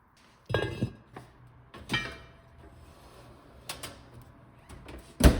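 Heavy lid of a preheated Dutch oven set down over a sourdough loaf: a few sharp metallic clanks and clinks close by, with quieter handling knocks between them and a final loud clank.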